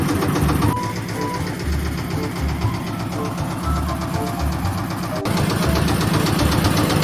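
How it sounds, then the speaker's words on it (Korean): An old Daedong power tiller engine idles steadily, a loud, continuous mechanical chugging with a fast regular knock and vibration throughout, close to the listener. "이제 엔진 잘 돌아가는 거 확인했으니까"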